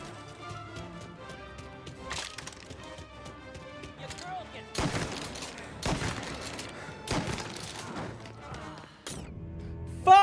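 Gunshots and bursts of fire from the Mafia video game crack out in several loud, sharp clusters over a busy background of music and game sounds, with a final burst at the end.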